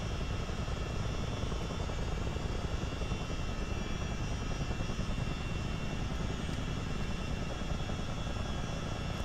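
CH-47D Chinook tandem-rotor helicopter in a flight simulator game, flying at 300 feet and 80 knots toward a taxiway to hover, a steady dense engine and rotor drone continuing unbroken without voices.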